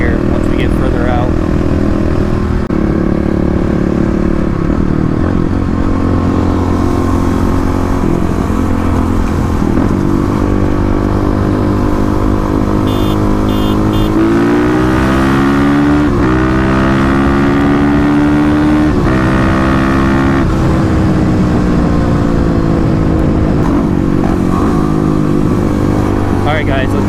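Kawasaki KLX351 and Yamaha WR250R dual-sport motorcycles riding twisty roads, a loud steady engine drone with rising and falling revs through gear changes, heavy wind buffeting, and occasional talk over it.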